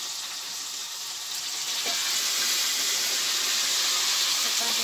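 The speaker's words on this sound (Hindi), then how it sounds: "अब ये गया कटा हुआ आलू, आलू को थोड़ा फ्राई कर लूँ" Cut potatoes, already boiled, frying in a pan with cumin for a jackfruit dish: a loud, steady bright sizzle and hiss throughout, growing slightly louder, with faint clinks of stirring and no talking.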